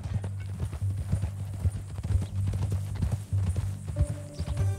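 Steady clip-clop of horse hooves in the video game Red Dead Redemption 2, in an even walking rhythm, close and fairly loud, with a low hum underneath and a brief tone near the end.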